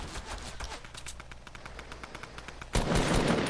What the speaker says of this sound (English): Finna pick up this Tommy gun